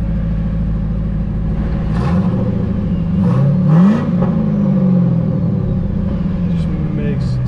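A supercharged LS V8 in a 1999 Pontiac Trans Am WS6 with a 3-inch Borla exhaust idles with a deep rumble, then revs up in a few quick, loud blips before settling back to idle.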